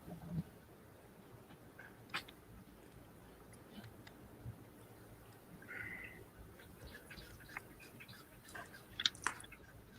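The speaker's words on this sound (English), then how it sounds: "He's chewing on something, Steve." A pet chews on something indoors in a loft space, a faint, close, wet crunching and gnawing with a few louder clicks, over a low room hiss.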